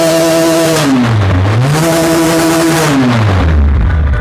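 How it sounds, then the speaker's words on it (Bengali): A Pilder v4 motorcycle engine revs through its exhaust indoors, rising and falling in two loud, smooth swells before dropping back to a low idle growl. "পাওয়ারফুল ইঞ্জিন, যেটা হচ্ছে এক্সজস্টের সাউন্ড শুনে বোঝা যাচ্ছে"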